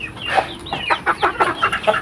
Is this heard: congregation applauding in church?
no